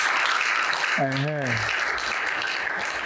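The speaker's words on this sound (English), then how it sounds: "If I do a good job, clap well for me." Audience clapping at a business empowerment seminar, a dense, steady patter of many hands that runs the full length, with one brief voiced call rising over it near the middle.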